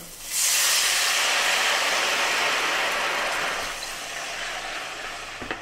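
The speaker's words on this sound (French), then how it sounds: "pour les échalotes, on va rajouter le vin jaune, donc à peu près 20-25 centilitres" Vin jaune poured onto shallots in a hot pan sets off a loud, sudden hissing sizzle that starts sharply and stays broad and steady, easing slightly toward the end.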